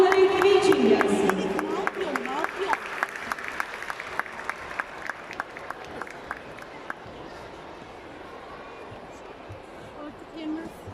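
A crowd applauds and cheers a vocational high school's folk dance team after its show. Loud clapping and shouting with voices on top at first, then thinning to scattered claps and background chatter.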